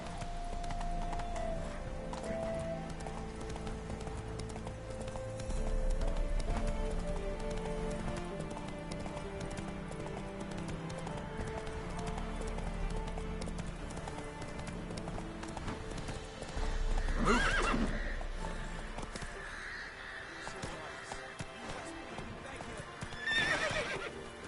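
Roach, the horse in The Witcher 3, gallops with steady rhythmic hoofbeats and lets out loud neighs, while rain patters and someone speaks over the action.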